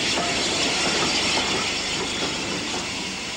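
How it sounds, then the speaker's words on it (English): A grimy unrebuilt Pacific steam locomotive, Wilton, calls at Basingstoke station, a continuous close rumble with hiss and faint clattering of coaches, no voices. "a somewhat grimy unrebuilt Pacific Wilton calls at Basingstoke"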